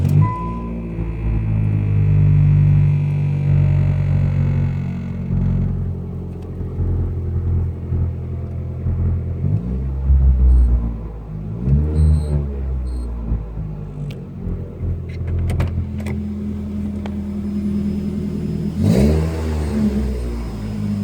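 A Honda car engine with its hood insulation removed starts up and revs repeatedly, deep rumbling swells rising and falling close by, with sharper revs near the end over a steady idle.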